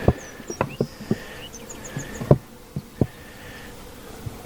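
A small honey bee swarm buzzes inside a mating nuc, with faint buzzing and short chirps over scattered soft knocks and taps, close and quiet.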